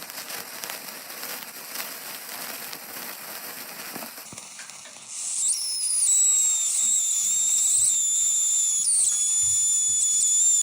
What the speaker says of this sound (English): This is what happens when you put a sparkler into an orange.